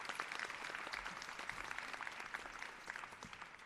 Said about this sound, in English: let's give a big round of applause to Dr. Wilson for doing a great job